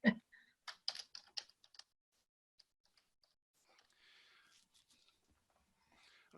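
Someone types on a computer keyboard with the left hand, producing a quick, quiet burst of uneven clicks at the start that thins into a few scattered taps.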